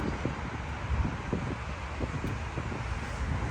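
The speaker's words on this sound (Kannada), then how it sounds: "ಭಾರಿ ಒಳ್ಳೆ ಗಾಳಿ ಬರ್ತಾ ಉಂಟು ತಂಪು ತಂಪು" Steady cool wind blowing across the microphone on a rainy day in Dubai, a broad continuous rush with low buffeting thumps, no voices.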